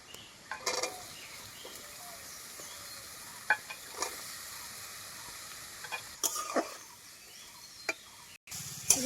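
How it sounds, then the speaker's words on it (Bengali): Capsicum fries in a wok with carrot for cheese Maggi, a faint low sizzle punctuated by several sharp clanks and scrapes of a spatula stirring. "এবার আমি ক্যাপসিকামটা দিয়ে দিচ্ছি"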